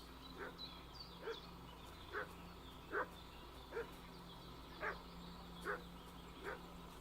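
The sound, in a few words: dog barking in the video game Kingdom Come: Deliverance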